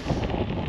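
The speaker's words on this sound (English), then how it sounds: "real windy." Strong wind buffets the microphone during a gravel bike ride on smooth gravel roads in Northwest Arkansas, a brief low rumbling roar with no voices.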